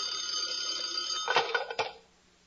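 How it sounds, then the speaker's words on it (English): An old-fashioned bell telephone rings as a radio comedy sound effect, a steady metallic trill that breaks into a few rattling clangs before cutting off into silence. "Suddenly the phone rang."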